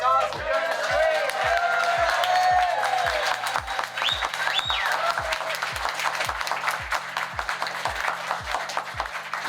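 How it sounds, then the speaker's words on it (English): A large crowd at a big Sorcery card game tournament event applauds loudly and steadily throughout, dense clapping filling the space with some cheering mixed in, while a faint voice carries over an amplified system in the background. "can you get a big round of applause for my songs for doing this great?"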